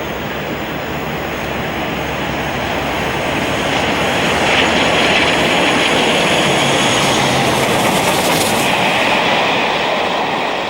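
A pair of Class 45 Peak diesel locomotives, 45112 and 4936, working a vintage trains railtour past Stenson Junction, producing a sustained, building engine roar that swells as they draw nearest, heard alone.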